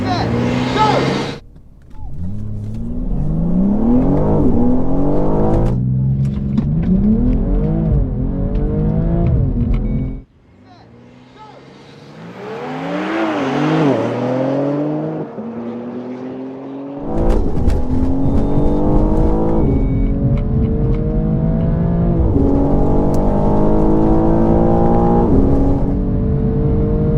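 Tuned 450 hp BMW M240i xDrive and stock 503 hp M3 Competition accelerating hard from the line in a drag race, loud engine roar climbing through repeated gear shifts, with a brief lull before the revving resumes and carries on steadily, a voice talking over parts of it.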